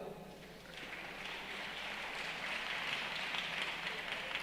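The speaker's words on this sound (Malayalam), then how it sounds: "ഈ കുഞ്ഞിന് നല്ലൊരു ക്ലാപ്പ് കൊടുത്തേ" An audience at an Assemblies of God church gathering claps for a child, a soft, steady wash of applause that swells slightly and continues throughout, heard from a distance.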